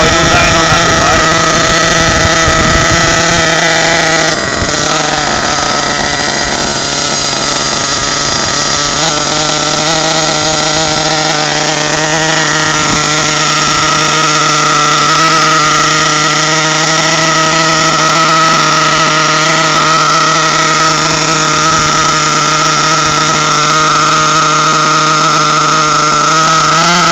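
HPI Trophy remote-control car with its small nitro engine idling on a beach, a steady buzzing drone held throughout with a brief shift in pitch early on, loud and close, no voices.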